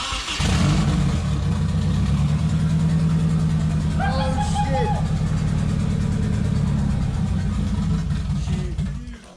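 A fire-damaged Nissan 240SX, restarted for the first time in two years, runs with a loud, steady engine drone close by, rising slightly near the start and holding to the end.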